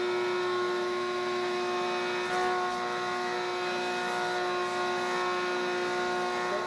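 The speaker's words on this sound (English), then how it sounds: "I'm just going to vacuum all this stuff up here now" A vacuum cleaner runs continuously inside a boat's V-berth during a remodel, a loud, close, steady motor whine and hum throughout with no talking.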